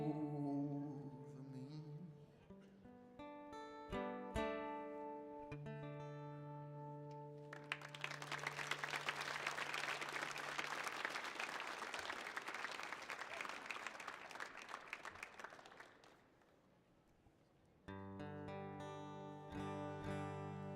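An audience applauds after a song at a live performance on the Millennium Stage. A full burst of clapping rises between sustained instrumental notes, then fades as the music resumes.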